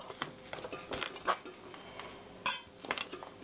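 A knife laid flat over three garlic cloves and pressed down on a cutting board while preparing kimchi stew, giving close, scattered knocks and light clinks with a sharper thump near the end and no talking.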